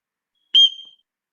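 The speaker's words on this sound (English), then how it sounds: "But it has a great emergency whistle." A single shrill blast from an emergency whistle carried on a key ring, sharp and loud at onset, then tapering off over about half a second, alone in silence.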